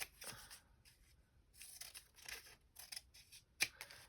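Scissors snip and trim paper for a Halloween journal, a series of close, quiet cuts with soft paper rustles and one sharp snip near the end.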